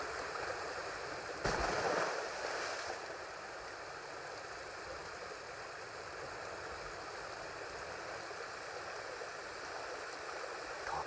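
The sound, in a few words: waterfall and stream rushing in the video game Ghost of Tsushima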